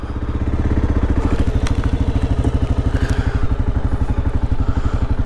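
A 2022 Kawasaki KLR650 single-cylinder motorcycle pulls away and rides on, its engine thumping in a steady, loud, close, rapid pulse that builds in the first second and holds, with no talk.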